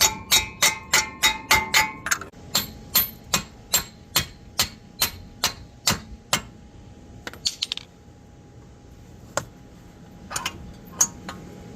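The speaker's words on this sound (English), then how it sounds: "Let me try to tap out this axle." A hammer taps repeatedly on a CV axle of a 2013-2018 Nissan Altima, sharp metallic strikes in a fast regular run, then slower, more spaced blows with a ringing tone, close and clear.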